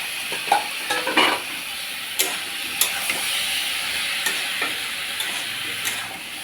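Boiled taro stems and jackfruit seeds are stirred in a frying pan, a steady sizzle and hiss with a few scraping stirs at irregular intervals, heard up close.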